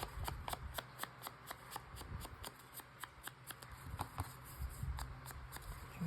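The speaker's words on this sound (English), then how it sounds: "it wants to tear pretty straight usually, which frustrates me because I like a jaggedy torn edge" Paper is torn by hand into pieces for a collage. Quick papery rips and rustles repeat in an uneven rhythm, close and fairly soft.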